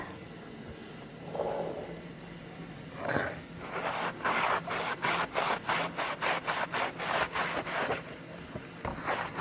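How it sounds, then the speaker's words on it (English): A microfiber cloth buffs a wooden cheese box in a quick run of rhythmic rubbing strokes, close and soft, after a few quieter scuffs and handling sounds at the start. "I'm going to buff this back with a microfiber cloth"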